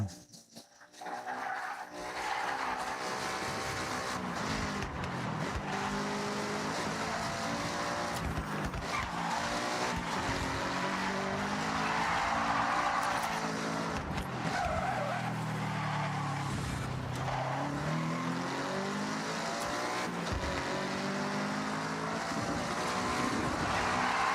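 Race cars roar through a Forza Horizon video game race, engines droning steadily with repeated tire skids and squeals layered over the continuous mix, loud and close throughout with no talking.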